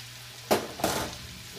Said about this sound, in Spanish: Esto lo vamos a ir revolviendo poco a poco, ir uniendo.